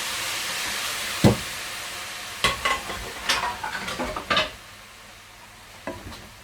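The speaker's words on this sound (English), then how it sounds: "Mix it round a bit." Lasagne sauce being stirred in a pan: a close series of spoon scrapes and knocks against the pan over a soft steady sizzle, with no voices.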